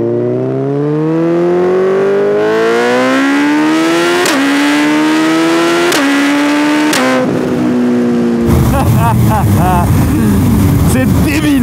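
A motorcycle fitted with a single aftermarket exhaust, not the stock system, revs loudly and close by. The engine climbs through several rising pulls with sharp throttle blips before breaking into rougher, louder running near the end.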